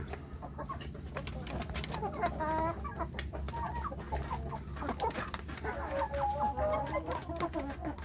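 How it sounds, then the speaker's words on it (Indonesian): Several free-range village hens kept as breeding stock cluck and murmur nearby in overlapping bursts, a busy farmyard chatter with faint background noise. "indukan ayam kampung yang diambil telurnya."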